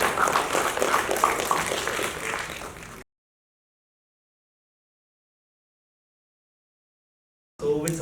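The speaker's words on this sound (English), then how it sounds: "Let's give a round of applause to Vaibhav Bhandari" Brief burst of audience applause for a speaker at a food and protein startups panel, about three seconds of scattered clapping before the sound cuts to silence.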